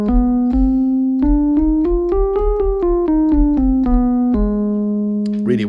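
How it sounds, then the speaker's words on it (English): A Lydian sharp 9 scale, the sixth mode of harmonic minor, played as a clear, evenly paced run of single sustained notes climbing and then descending, ending on a held low note with a brief noise at the close. "the penultimate mode of the harmonic minor is a Lydian"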